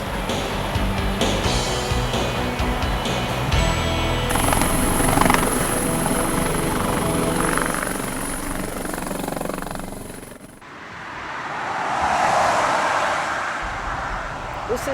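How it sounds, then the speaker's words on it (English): A helicopter flies over Paris in autumn, its rotor and engine roar loud and steady from inside the cabin, easing briefly before swelling again. "we're on a short but spectacular helicopter ride with Paris in the autumn spread out below us"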